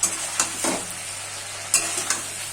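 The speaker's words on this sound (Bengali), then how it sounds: "ঢাকাটা খুলে আমি আরেকবার নাড়াচাড়া করে দিচ্ছি।" A spoon stirs a vegetable curry of drumsticks and potatoes with mustard and poppy seed paste in a pan, giving several short scraping strokes over a low sizzle.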